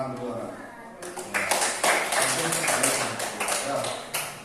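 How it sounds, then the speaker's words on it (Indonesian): A classroom of students clapping hands in applause, starting after a moment of quiet and continuing as a loose burst of claps, with talk mixed in underneath. "Tepuk tangan dulu."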